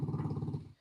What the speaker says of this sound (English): I can hear the dog purring in the background.